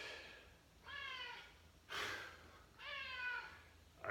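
A house cat meows twice during a home mobility and light cardio workout, drawn-out cries separated by a short breathy puff, close by with no talking.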